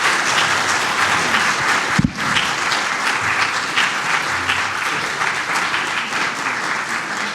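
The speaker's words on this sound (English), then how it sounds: "Big round of applause." A conference audience applauding a panel, sustained dense clapping filling the room at steady loudness, with a single low thump partway through.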